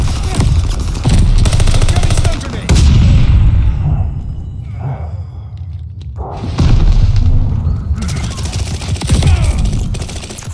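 A stun grenade is thrown and bursts in a Call of Duty: Vanguard Hardpoint match, with loud booming blasts and a ringing dropout in the middle, surrounded by heavy gunfire.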